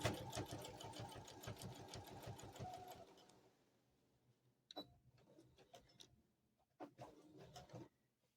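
A sewing machine runs in a fast, steady stitching rhythm as it sews a slip cover, then stops. Quieter clicks and handling sounds follow in a few short bursts.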